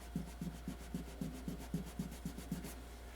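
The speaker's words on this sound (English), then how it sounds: "when you have dirt that's stubborn and you don't want to continue wiping like crazy, you kind of have to scrape it" A fingernail scraping stubborn dirt off a 1934 Grunow 501 antique tube radio, heard as about a dozen quiet, even, rhythmic rubbing strokes, close up and with no voices.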